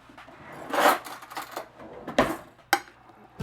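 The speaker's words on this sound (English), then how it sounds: "And carefully stir." A spoon stirs a mixture moistened with soy milk in a bowl, giving a few scraping, clinking knocks against the bowl at irregular intervals, close and fairly quiet.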